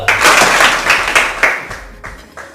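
An audience at a business training session claps together in a short burst of loud applause that tapers off into a few scattered claps.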